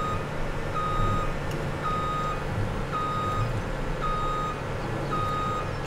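A harvester with its header trailer still hitched backs up in Farming Simulator 2017, its reversing alarm beeping in a steady, evenly spaced rhythm over a constant low engine drone, with no talking.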